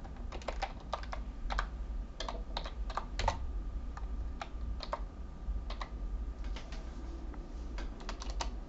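Keys clatter on a computer keyboard in uneven bursts of quick taps with short pauses between words, close and clear against a low steady hum.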